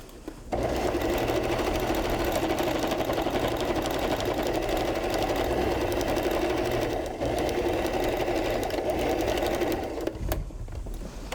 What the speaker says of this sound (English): Now I stitch a little bit further in just to make sure that everything is attached than I normally would.